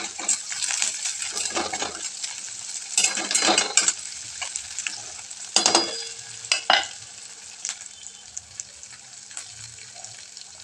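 Green chilli pieces stir-fry in hot oil for a dry potato dish, with a soft sizzle punctuated by scraping stirs and spoon clinks against the pan that fade toward the end.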